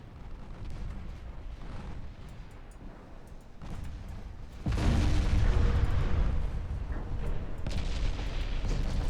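Heavy naval shell hits and explosions from a battleship battle in the video game Ultimate Admiral Dreadnoughts, a continuous rumbling barrage of booms with a sharp, louder blast partway through that stays loud to the end.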